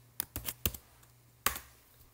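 A computer keyboard is typed on in a quiet room: a short burst of four quick keystrokes, a pause, then one more distinct click, close and crisp.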